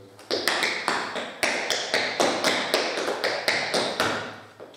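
Tap dance shoes strike a hard floor in a quick side break moving diagonally to the left, a rapid run of crisp, close metallic taps in uneven clusters that repeat steadily throughout.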